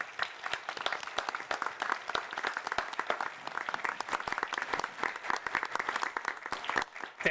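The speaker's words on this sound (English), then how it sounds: "A big applause to our team." An audience at a GUADEC conference session claps in a dense, steady burst of applause lasting several seconds, fairly faint and distant, with no voices over it.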